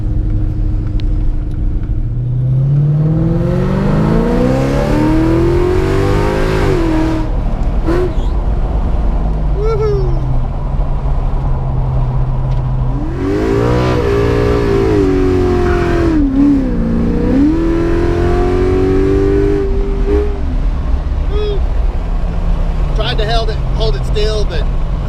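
Coyote V8-swapped Fox body car revving and accelerating hard, engine pitch climbing and falling through repeated pulls over a steady low rumble, loud and close, with brief quieter gaps between runs.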